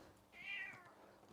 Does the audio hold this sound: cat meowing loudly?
yes